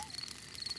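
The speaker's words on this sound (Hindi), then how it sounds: "ये कीड़ों की चीची आवाज है।" Insects chirping at night in a cartoon, a faint, steady high buzz of trilling lasting under a second with no voices.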